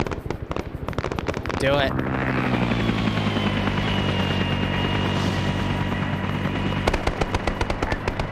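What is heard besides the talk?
grenade barrage explosions in a Vietnam war video game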